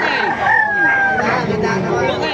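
A rooster crows loudly and close at a busy chicken market in Bocaue, with one drawn-out call over a murmur of people talking nearby.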